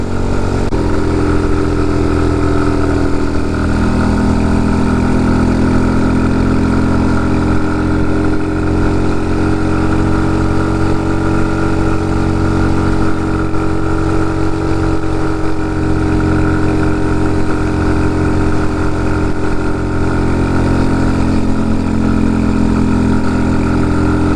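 An RPS Condor 250cc motorcycle with a modified stock exhaust climbs a hill in fifth gear, its engine droning in a steady, loud, continuous hum with a low rumble and only small shifts in pitch throughout.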